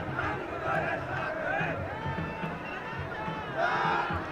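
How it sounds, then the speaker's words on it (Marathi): A crowd of Maratha protesters near CSMT celebrates with cheering, whoops and excited shouting that blends into a dense, fairly close roar with overlapping voices throughout. "जल्लोष केला जातोय"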